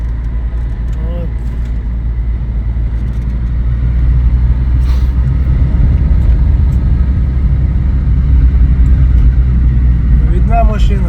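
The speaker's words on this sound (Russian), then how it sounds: "Видна машина появилась." A steady low engine rumble grows gradually louder as a car draws nearer, with a voice speaking faintly over it.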